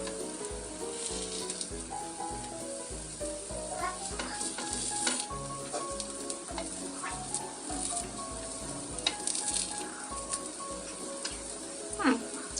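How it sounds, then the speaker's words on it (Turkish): Pancakes for allergic babies cooking in a pan, a steady soft sizzle with faint scrapes and clicks running throughout, close and continuous with no talk. "Diğer yüzleri de bu şekilde kızarana kadar pişiriyor olacağız"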